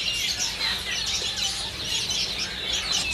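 Caged bush larks sing in a bird shop amid other chirping birds, giving busy overlapping high tweets and trills at moderate volume over a steady background hum, with no talking.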